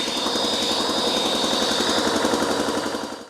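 A Range Rover Vogue engine idles after a blow-by line repair, a steady, close mechanical running sound with a fast regular pulse, holding level before cutting off at the end with no talking.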